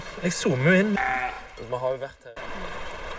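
A sheep tied out as bait bleats loudly a few times in quick, wavering cries, close by, followed by a sudden cut to quieter background.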